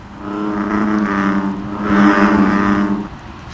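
A voice imitates bullfrog calls with two deep, droning, buzzy bursts, each swelling and fading, the second louder.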